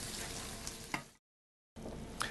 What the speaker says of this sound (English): Okay, so you're stir frying the beef.